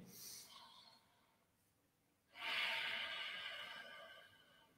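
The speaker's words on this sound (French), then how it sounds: "Ça s'appelle Ujjayi, la respiration de l'océan, la respiration de la victoire." Ujjayi yoga breathing, drawn slowly through the nose against a constricted throat: a short airy breath at the start, a quiet pause, then a long, loud, hissing ocean-like breath filling most of the clip.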